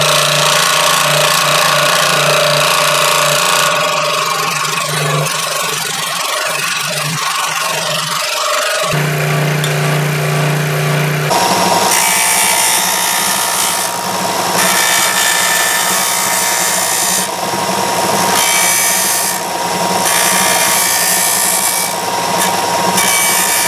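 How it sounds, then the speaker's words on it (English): A scroll saw buzzes steadily through wood, a loud continuous mechanical whine with rasping cutting noise that shifts in tone partway through, cutting out a small badge. "But what I'm gonna use is a scroll saw."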